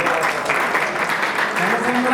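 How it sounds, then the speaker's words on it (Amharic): A brief burst of warm applause from guests at an apostolic church wedding, a dense patter of clapping with voices mixed in. "ሞቅ ያለ ጭብጨባ"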